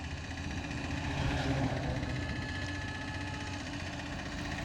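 A 2025 Bajaj Platina 100 motorcycle engine runs at a steady idle, a soft continuous low rumble with a slight swell midway and no one speaking.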